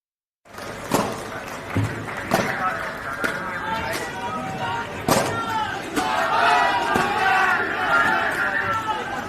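A political rally crowd in Sirsa, Haryana claps and cheers, a dense wash of applause with shouts rising and swelling loud throughout, an announcer's voice carrying over the noise.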